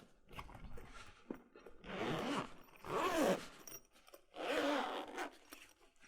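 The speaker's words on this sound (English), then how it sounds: "if you were to open up the front zipper," The front zipper on the carrying case of a SmallRig 3646 teleprompter being pulled open in several close, rasping bursts separated by brief pauses, with no speech.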